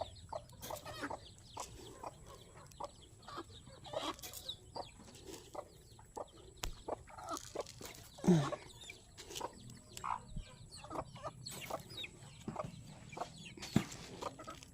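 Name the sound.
hen clucking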